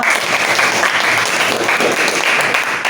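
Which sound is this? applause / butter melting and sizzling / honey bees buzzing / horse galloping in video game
applause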